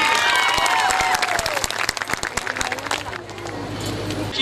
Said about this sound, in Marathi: एकदा जोरदार टाळ्या स्वरासाठी